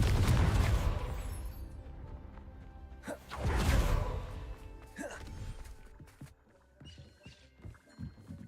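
A Confringo spell detonates in Hogwarts Legacy, a booming burst at the start followed by a second rumbling blast and scattered crackling debris fading away.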